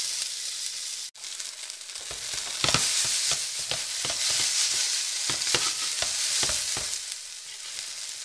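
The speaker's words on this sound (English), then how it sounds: "I'm going to saute this up probably for about 8 to 12 minutes" Shrimp pasta ingredients sautéing in a pan, a loud, continuous close sizzle with crackling pops and stirring scrapes, after a short quieter start.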